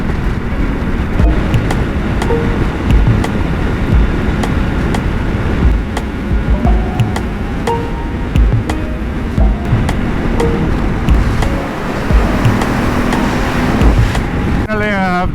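A Ducati Multistrada 950 fitted with screen winglets rides along with a steady, loud blend of wind buffeting and droning engine, scattered clicks and bumps throughout, and a voice now and then beneath it.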